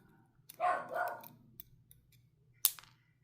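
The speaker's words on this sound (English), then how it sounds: "My dogs are being ridiculous in the background." Dogs bark in the background, two quick muffled barks a moment apart, followed by a sharp click. The sound is faint and set against a low steady hum, with nobody talking.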